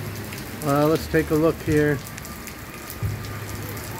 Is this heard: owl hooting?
no